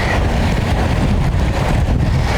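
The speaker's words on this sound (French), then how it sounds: "Heureusement qu'il y a ce petit vent frais." A light, cool outdoor wind buffets the microphone during a cardio workout, a loud continuous rumbling rush with no pauses and no talk.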